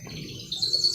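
A caged pet bird chirps in a home setting, a quick run of high, bright tweets that grow denser toward the end, close and clear over faint low background rumble.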